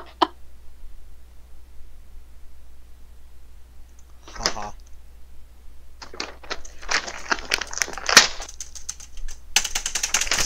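Rapid computer keyboard typing, a dense clatter of key clicks resembling a typewriter, builds in scattered bursts over a steady low hum, growing busier and louder toward the end with no clear talk.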